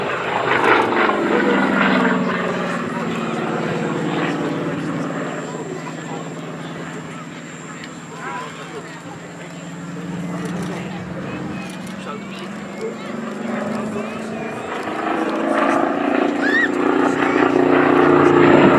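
A Saab reconnaissance aircraft flies at the Duxford Battle of Britain airshow, a loud sustained engine drone that fades and swells as it passes, heard under continuous narration.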